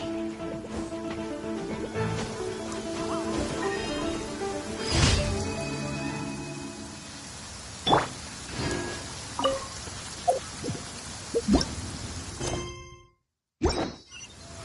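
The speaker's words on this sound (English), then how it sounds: "Quite a downpour." Steady downpour of rain in the video game Genshin Impact, a dense hiss that is joined by scattered sharp thuds and knocks and briefly cuts to near silence near the end.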